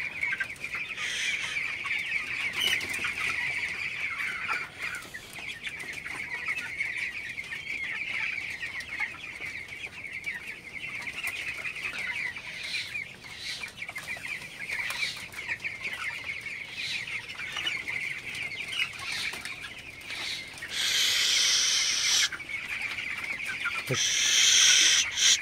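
Eighteen-day-old broiler chickens in a raised slatted-floor shed cluck and chatter in a dense, continuous flock din that swells louder toward the end, with no talking.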